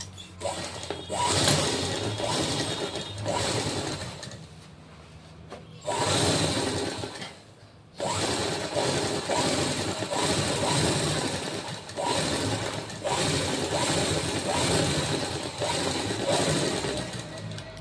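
Domestic sewing machine stitching a folded waist strip onto a blouse, running in long steady bursts with brief pauses between runs, close and loud.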